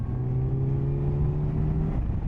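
A 2025 Kawasaki Z900 motorcycle engine pulls steadily in sixth gear from just under 4,000 RPM, a continuous loud close drone with a rising tone held for about two seconds before easing off, with no voices.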